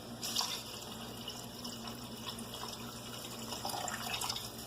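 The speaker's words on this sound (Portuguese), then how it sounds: "E aí nós vamos acrescentar água o suficiente para cobrir os frangos." Water poured into a pot over seared chicken pieces, making a steady, continuous splashing and trickling pour that runs alone for several seconds at moderate, even loudness.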